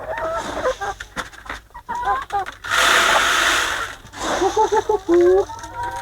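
Chickens cluck and squawk in short bursts close by, with a stretch of broad hissing noise in the middle and some voices mixed in.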